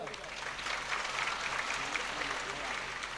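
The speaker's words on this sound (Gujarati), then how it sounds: "તાળીઓથી વધાવો." An audience at a folk storytelling performance applauds steadily, a dense wash of clapping lasting a few seconds to welcome an arriving guest.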